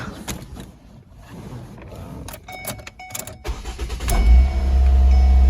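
Ford Focus engine being started for warm-up after a radiator replacement, rising into a steady low rumble that builds over the last seconds, preceded by faint mechanical clicks and rustling nearby.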